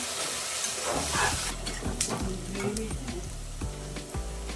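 Fresh fenugreek leaves hit hot oil for a tempering in a chicken pulao, giving a loud, steady sizzle and frying hiss with stirring scrapes that continue throughout.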